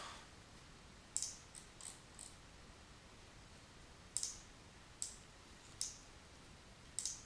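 A computer mouse clicks while someone works in Unity 3D: about eight sharp, quiet clicks come at irregular intervals, some in quick pairs, over a hushed background.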